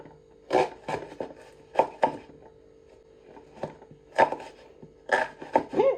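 A knife chops a small piece of red cabbage on a board for a Polish red cabbage dish, with sharp, close chops landing in irregular clusters separated by short pauses.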